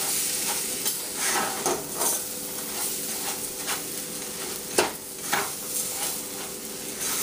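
Rice stirred and toasted in a hot pan before braising, a steady sizzle with scraping stirs and occasional sharper clinks of the utensil against the pan, close and continuous with no talking.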